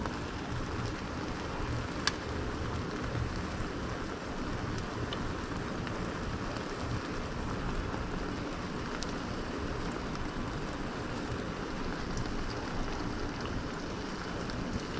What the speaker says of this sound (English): a little hot oil drizzle.